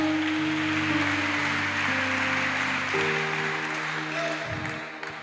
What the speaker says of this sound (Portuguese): Então aplauda o Senhor mais forte.